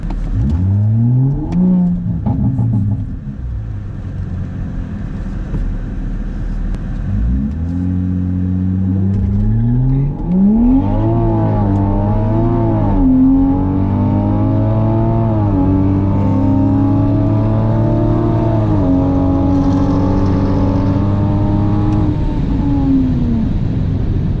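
At a drag strip, a Mk5 Supra racing a GTR gives a loud, close engine drone that rises through repeated upshifts and holds a sustained high-revving roar for a long pull, with no talk.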